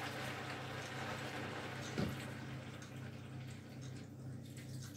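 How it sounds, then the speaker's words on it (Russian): A little water is poured into a pan of pork and potato roast with dill, a faint brief splash around the middle over a steady low hiss of cooking. "И добавляю чуть-чуть воды."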